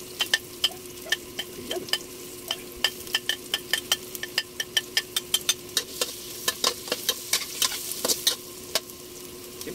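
Onions fry in a hot pan for a Bisaya-style halang-halang, with a constant sizzle under rapid, rhythmic clicks and scrapes of a spatula stirring; one short word is spoken.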